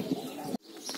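Pigeons let loose to fly, giving brief cooing and chirping calls close by over a steady outdoor hum, cut by a short sudden drop near the middle before the birds continue.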